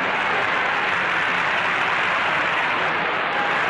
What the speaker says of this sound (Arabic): وغادر الرئيسان الباخرة وسط حماسة الجماهير وهتافاتهم المدوية